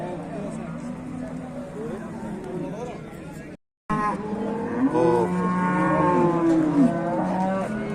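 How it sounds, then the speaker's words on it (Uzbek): Cows on a farm during milking, several loud drawn-out moos in succession close by, with a voice briefly heard among them. "Navbatdagi sigirimiz."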